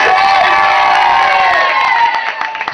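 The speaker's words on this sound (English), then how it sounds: "give her a cheer this time!" A crowd of children cheers and shouts loudly and continuously, a bright sustained roar that fades slightly toward the end.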